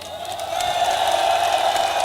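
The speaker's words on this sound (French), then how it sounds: "de nombreux citoyens qui sont sortis devant leur domicile, devant leurs ateliers, devant leurs magasins pour applaudir le cortège." A crowd of citizens standing outside homes, workshops and shops cheering and applauding a protest march procession of the FNDC, a dense sustained roar of voices and clapping that swells and holds, loud and somewhat distant.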